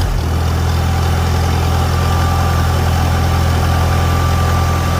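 A 1949 Farmall Super A tractor engine catches at the start and then settles into a steady, loud, close idle with a low chugging rumble and constant vibration.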